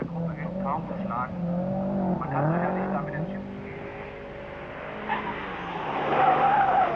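A showroom-spec Ford Sierra Cosworth 4x4 rally car on a stage of the 1991 Saarland Rallye, its engine revving and shifting with tyre skids, heard steadily under a commentator's voice.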